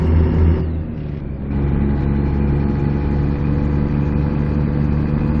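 A truck engine in American Truck Simulator during night driving, a loud steady low rumble that dips briefly and then builds again as it revs.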